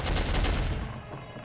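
Turret gunfire in the video game Soldier of Fortune comes as a loud, close burst of rapid automatic shots that fades out over about a second and a half, with no talk.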